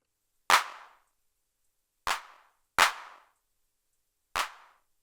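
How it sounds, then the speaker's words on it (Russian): Four sharp, dry clap hits from a Behringer RD-6 analog drum machine, each a quick noisy burst with a short decaying tail, unevenly spaced with silence between them. "Теперь послушаем клэп."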